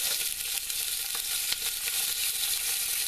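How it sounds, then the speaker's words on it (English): Pieces of beef browning in a hot pan for boeuf bourguignon, a steady dense sizzle and crackle throughout with occasional faint pops, close and continuous without talk. "We are going to brown these pieces of meat"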